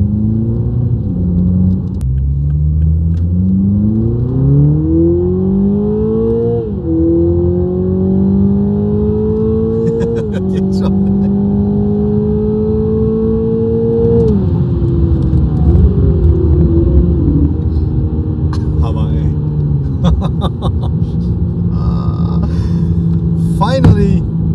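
Little Toyota Supra with a stock engine on a test run, loud and close, with the engine note climbing repeatedly through the gears, each rising pull dropping at the shift and then building again.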